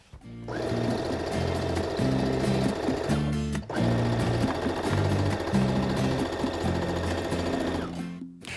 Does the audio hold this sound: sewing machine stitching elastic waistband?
yes